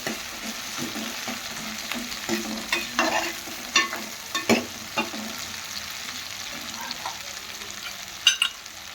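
Small prawns fry in a pan, a soft continuous sizzle broken by a run of scraping stirs that come in short bursts, with a couple of sharper clinks near the end and no talking.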